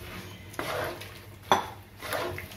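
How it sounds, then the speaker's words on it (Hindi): Mashed chickpeas (chole) are stirred in a pan, a spoon scraping and knocking against the metal in a few irregular strokes over a low background hiss, close and moderately quiet. "ये हम मैश किए हुए छोले डाल देंगे और इसको मिक्स कर लेंगे।"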